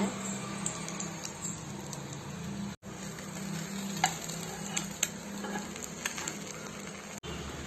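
A breakfast dish with melting cheese and a little added ghee frying in a pan, giving a steady close sizzle with occasional sharp pops and crackles throughout.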